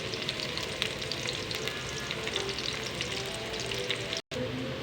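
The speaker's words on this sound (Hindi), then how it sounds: "अब प्याज डालेंगे और इनको लाइट ब्राउन कर लेंगे" Chopped onions frying in hot oil for dhaba-style daal chana, a constant dense sizzle and crackle with no voices, broken by a brief silent gap near the end.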